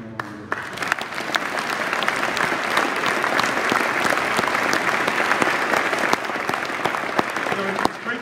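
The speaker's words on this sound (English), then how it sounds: "So I do want to give a round of applause to Beth Garrett, who's no longer here." Applause for Beth Garrett at a school of chemical and biomolecular engineering dedication at Cornell, as a large crowd breaks into loud, sustained clapping that swells quickly and continues evenly.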